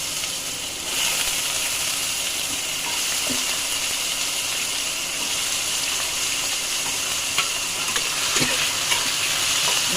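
Loud, steady sizzle of cut potatoes frying in hot oil, constant throughout, with a few faint knocks of stirring.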